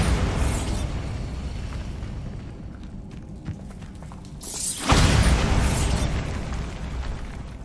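Loud booming blasts of the Bombarda spell in the Hogwarts Legacy video game, a sustained rumbling explosion fading out, then a second sharp burst near the end with its rolling roar continuing afterward.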